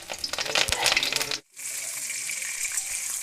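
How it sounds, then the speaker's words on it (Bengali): Potato pieces drop into about 100 ml of hot oil for a Bengali chicken curry, setting off a loud crackling sizzle that dips briefly before settling into steady frying. "তেল গরম হলে এর মধ্যে দিয়ে দিতে হবে আলুগুলো"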